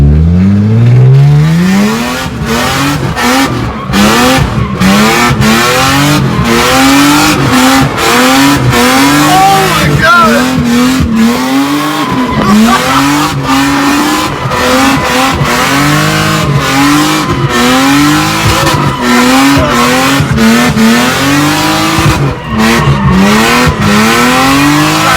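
Car engine revving hard and repeatedly through rising and falling pitches as it warms up and pulls away, loud and continuous with sharp gear-change breaks, at a tuning shop.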